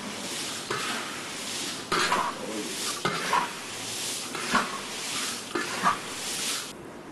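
Dried hot peppers are stirred in a pan over heat, giving steady scraping and stirring clatter with faint sizzling and a few louder metallic knocks, fairly close and continuous throughout.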